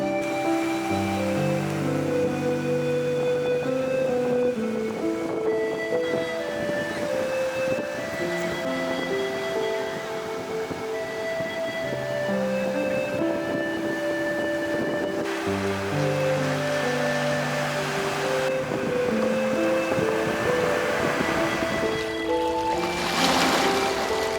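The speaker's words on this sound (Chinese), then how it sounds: "那海浪一波接着一波扑向脚边，这就是南澳岛" Sea waves roll in and wash ashore on Nanao Island's coast in a steady, continuous surge, blended with a melodic music track playing throughout.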